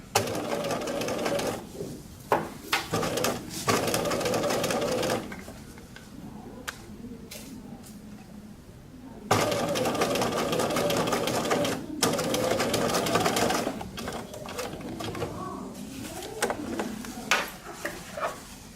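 A sewing machine stitches the fold of a sleeve placket in two sustained runs with a short quiet pause between them. The whirring is close and even, broken by a few clicks and handling knocks, and a voice is heard briefly.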